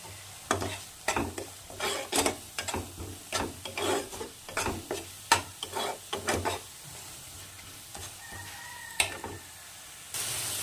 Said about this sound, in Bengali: এই সব কিছু দিয়ে মশলাটাকে আরেকটু ভালো করে কষিয়ে নেব